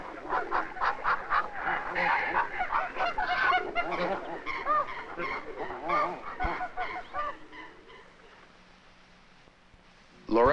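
Hand-reared goose giving furious courtship honks, a rapid series of loud calls filling most of the stretch under a narrator's voice, fading near the end before a short burst.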